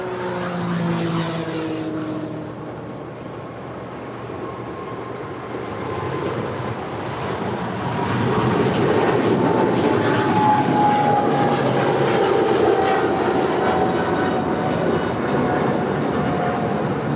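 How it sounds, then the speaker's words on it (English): An All Nippon Airways Boeing 777-300ER, three years old, departs LAX with a loud sustained engine roar that grows stronger partway through, a rising whine threading through it. "Goes All Nippon Airways Flight 5 to Tokyo Narita. It's a 3-year-old 777-300ER."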